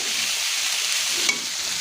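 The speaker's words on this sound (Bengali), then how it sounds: "একটায় পেঁয়াজ আর আলু ভাজা করছি" Onion and potato frying together in a pan make a steady, close sizzle with no pause, with one brief louder pop partway through and no voices.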